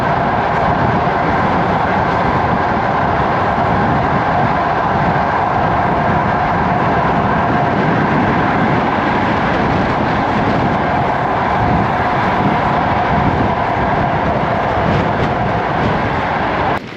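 A passenger train rumbles steadily across the desert toward Bukhara on the Andijan–Khiva route, a loud continuous rolling roar from start to finish with no break.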